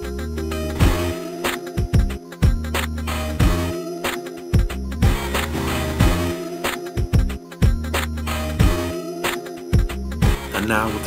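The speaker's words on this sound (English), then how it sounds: "Both together in 8-bit style, they sound like this." Game soundtrack music and drums together, both crushed by an 8-bit bitcrusher effect in Unity, giving a continuous, gritty, lo-fi chiptune-like mix with steady driving beats, loud throughout.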